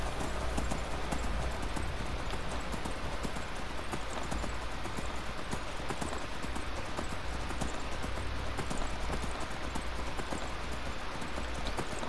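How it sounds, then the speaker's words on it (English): Horse hooves clip-clop steadily while riding in the video game Skyrim, a continuous rhythmic trot over a dense bed of game ambience and music, with no talking. "Let's ride our horse."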